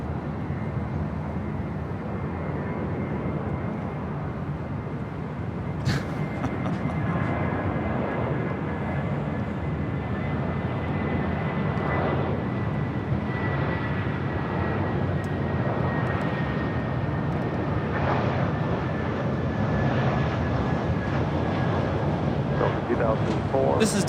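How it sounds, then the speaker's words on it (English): A Delta Airlines Airbus A319 arrives at LAX, its engine roar a steady, moderately loud drone with a faint whine sweeping across, while people talk over it and wind buffets the microphone. "Right up next is the Delta A319."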